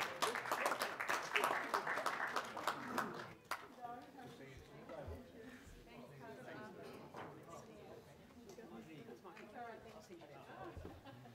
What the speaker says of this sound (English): Round of applause for all our recipients.